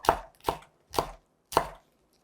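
Four sharp knife chops on a cutting board as a bell pepper is cut into strips, evenly spaced and close by, each a crisp thud with no talking.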